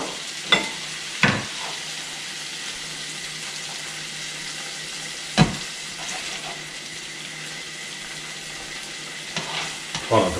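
Mud crab pasta sizzles steadily in a pan on the stove, a constant close frying hiss broken by a few sharp clanks and scrapes of stirring utensils against the pan.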